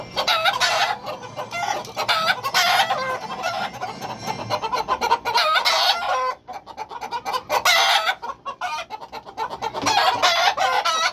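A pair of white fighting cocks cluck and crow loudly nearby in repeated bursts, with short pauses between calls, and no talking over them.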